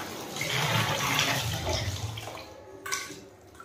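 Water is poured for washing and rushes down steadily in a close, full splash that slowly thins out, with no voices over it.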